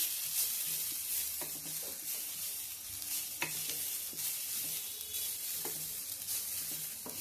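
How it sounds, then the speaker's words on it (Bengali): Grated coconut, cumin and dried chillies are stirred in a dry pan for sambar, with quiet, repeated scraping strokes and a faint crackle at a steady rhythm. "এবার আমি এটাকে শুকনো খোলায় নেড়ে নিচ্ছি"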